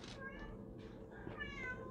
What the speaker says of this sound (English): you guys hear that cat?